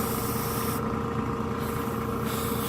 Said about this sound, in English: Let's see how broad a spray pattern we can make.